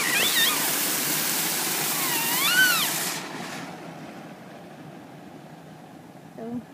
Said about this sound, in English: we're coming up to the cute little waterfall that they have right here